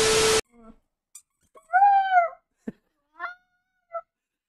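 A dog attempts a howl, producing one drawn-out wavering note between short squeaks and yelps, following a brief loud burst of noise, close and otherwise quiet.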